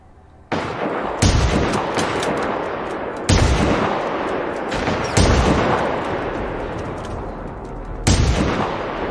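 Heavy gunfire in the video game Generation Zero: loud, booming shots in a slow series, each blast followed by a long rumbling echo that carries into the next.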